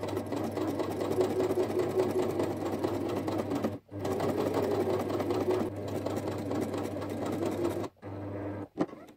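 A sewing machine topstitches a vinyl overlay on a bag's zipper pocket at a quarter-inch seam allowance, a loud close continuous whirring hum that pauses briefly twice, then ends with a couple of clicks.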